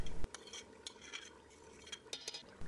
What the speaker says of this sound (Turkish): Biberlerin tamamını tencereye aldıktan sonra, burası çok önemlidir, sürekli karıştıracağım.